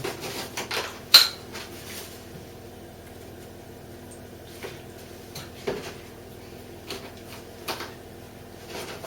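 Icing of icing sugar and milk mixed in a bowl, irregular clinks and knocks of utensil against the bowl, close and moderately loud over quiet background.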